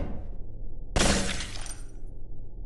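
A glass bridge in the video game Melon Playground shatters in one sudden, loud crash, a bright burst of breaking glass that rings for about a second before fading into background hum.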